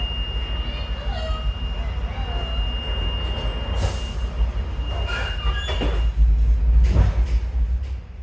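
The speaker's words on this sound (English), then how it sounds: "Northbound train at departing Hialeah Market." A commuter train rumbles steadily with low, heavy noise, punctuated by brief screeches and a rising surge of rolling wheels as it pulls away northbound from Hialeah Market station in Miami.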